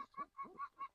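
A racing pigeon gives faint, rhythmic cooing calls. Four short, evenly spaced notes come in quick succession, with nothing else heard.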